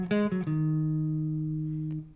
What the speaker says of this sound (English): The first bass line part we're going to learn sounds like this.